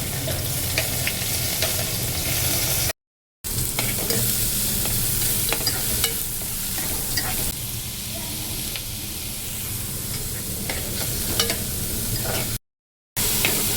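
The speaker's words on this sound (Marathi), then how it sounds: "लसूण टाकते, कांदा, हिरवी मिरची, कढीपत्ता." Garlic, onion, green chili and curry leaves fry in hot oil with a constant close sizzle and crackle, stirred now and then, over about fourteen seconds with two brief dropouts.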